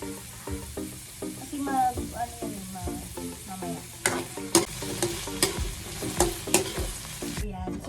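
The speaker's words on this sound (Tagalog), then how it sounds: "halu-haluin lang natin" Sinigang being stirred in a pot, with repeated scraping and sloshing strokes over a soft simmer and louder clanks toward the end; no talk.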